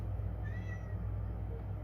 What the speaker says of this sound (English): if you can hear my cat, she agrees.